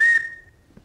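A 3D-printed plastic whistle gives one short, shrill, steady tone. It starts loud and fades away within a second, with no voices.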